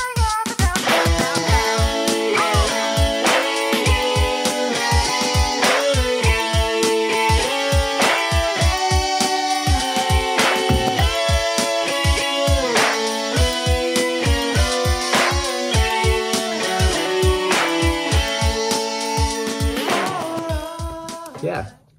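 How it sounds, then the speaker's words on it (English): Layered electric guitars play the Auld Lang Syne melody in octaves with stacked harmonies, sounding as bright, plucked notes in a steady, busy rhythm that stays full and loud until an abrupt stop, with no talking. "So I played the melody of Auld Lang Syne in octaves on the guitar."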